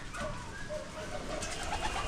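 Pigeons coo repeatedly in soft, low bursts over a steady background murmur, several birds nearby in a loft blending together.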